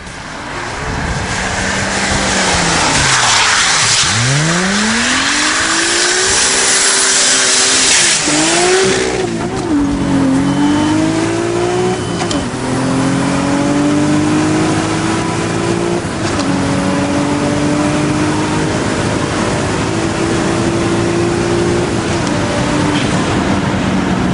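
A powerful, nitrous-boosted Audi engine roars close and loud, revving up through several gear changes with rising pitch, sustained hard acceleration throughout.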